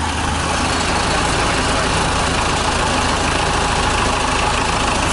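An old tractor being restored in the Chernobyl exclusion zone runs its engine with a loud, steady, rough rumble that continues unbroken and close by.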